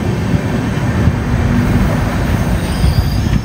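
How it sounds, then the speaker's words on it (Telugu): A passenger train on the Mumbai–Pune Deccan Express route rolls into Karjat station, heard from on board. A loud, continuous rumble of wheels on track is overlaid with a high squeal of wheels, with no talk. "సో ట్రైన్ కార్జట్ లోకి అయితే ఎంటర్ అయింది."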